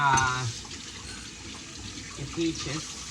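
Water from canned peaches drained into a sink in a home kitchen, a brief gush and trickle at close range followed by quieter running water, with someone talking over it.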